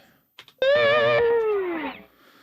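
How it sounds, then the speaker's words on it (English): A gliding, sustained tone like a slide guitar, sliding down in pitch after a couple of short clicks, loud and alone. "Slide guitar."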